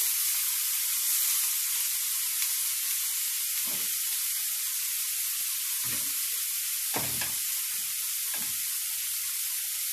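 Meat sears on a grill pan with a continuous, even sizzle that holds steady for ten seconds, broken by a few soft low thumps and scrapes; no one speaks.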